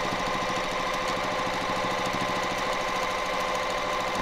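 Sewing machine running fast on its slowest setting while stitching a pillowcase, a loud, even, rapid mechanical chatter close by, continuous without pause and with no voices.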